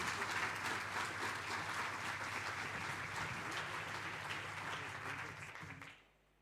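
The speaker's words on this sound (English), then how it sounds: "Let's give the Premier a big round of applause." An audience at a provincial education awards ceremony applauds the Premier with steady, dense clapping that holds for about six seconds before stopping abruptly.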